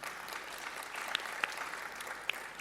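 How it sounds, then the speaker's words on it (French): An audience at a panel discussion claps steadily at moderate volume, with a few sharper individual claps standing out, and no talking over the applause. "Je vous demande d'applaudir pour elles."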